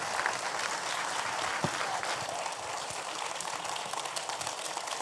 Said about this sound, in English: let's give our artists a round of applause.